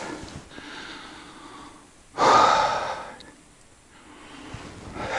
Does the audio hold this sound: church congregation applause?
no